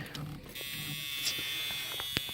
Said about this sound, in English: You hear my buzzer